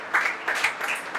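An audience applauds for the Liga Musica orchestra in a church or gathering setting; a short burst of clapping rises and falls in a few uneven swells.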